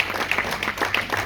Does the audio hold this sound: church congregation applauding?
yes